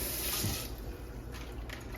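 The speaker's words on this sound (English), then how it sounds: "And then I put some cold water." Cold water running from a tap over raw salmon being rinsed in a sink, a steady continuous splashing flow throughout, close and fairly quiet, with no talking.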